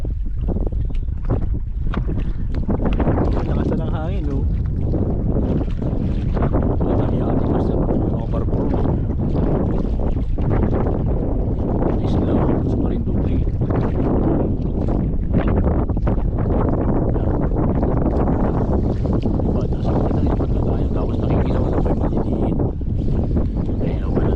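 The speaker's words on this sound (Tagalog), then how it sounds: "ang lakas ng atin ng hangin eh" Strong, constant wind at sea buffets the microphone in loud, rough gusts for the whole stretch, with faint voices now and then beneath it.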